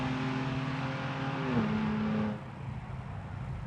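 A 2023 Ford Explorer races in a cheap car challenge drag event, its engine droning steadily, a pitch shift as it lets off, then quieter crowd and track ambience.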